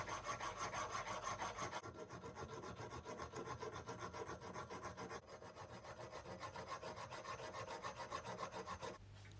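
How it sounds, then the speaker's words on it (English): Files rasping steadily over a welded metal brake-caliper lug on a Kawasaki S1 550 twin-disc conversion, smoothing the material down; continuous close scraping strokes with a brief pause near the end, no talking. "it's now time to file it all up so you can't see it"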